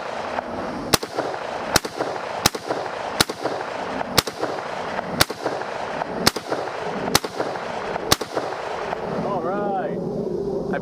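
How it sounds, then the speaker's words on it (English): Gunshots fired downrange at a steel target: nine loud, sharp reports at a steady pace of about one per second over constant outdoor background noise. "So we're gonna send some rounds downrange"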